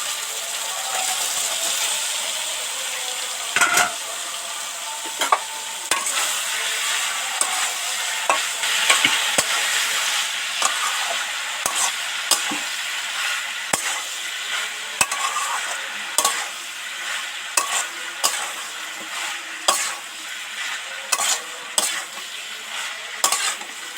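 Soybean chunks and boiled potato stirred into a frying masala in oil, a constant sizzle broken by repeated scraping and clacking strokes of a spatula against the pan, growing more frequent toward the end.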